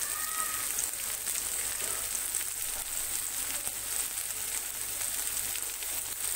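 Chickpeas fry with spices in a pan, giving a steady, close, even sizzle that holds without break throughout.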